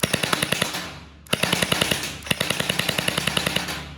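An electric MP9 gel blaster gun fires gel balls in rapid automatic bursts, a loud, close, steady rattle of evenly spaced shots with one short break between strings, and no talk.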